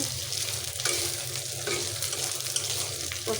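Dried malaya fish frying with onion and garlic in butter, a continuous close sizzle with repeated scraping stirs of a utensil across the pan, steady and moderately loud.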